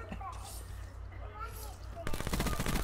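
VMP submachine gun firing in Call of Duty, a rapid burst of fast automatic shots that starts abruptly and keeps going to the end, loud over steady game background and voice chat.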